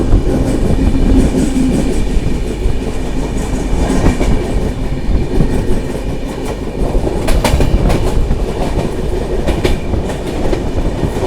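A passenger train runs on the Goa to Belagavi line, its steady loud rumble and clickety-clack of wheels over rail joints filling the whole stretch, with no voices.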